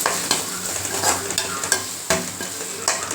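Spices sizzling in oil for fenugreek curry while a utensil stirs and scrapes the pan in repeated sharp strokes, loud and close, with no voices.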